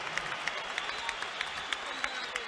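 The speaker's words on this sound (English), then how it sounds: "Let's have a round of applause for these two heavyweights." Boxing crowd applauding at a heavyweight bout in Atlantic City, a faint, distant sustained wash of clapping with a few sharper claps standing out at regular intervals.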